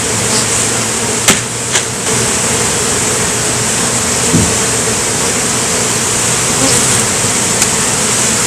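A dense swarm of honeybees buzzing continuously around a nucleus hive, loud and close, with a few sharp knocks and taps standing out briefly.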